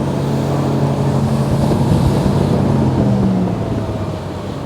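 A Sea Ray Sundancer 265 motorboat under way on open water, its engine a loud, steady drone mixed with the rush of hull and spray, fading slightly near the end, with no talking.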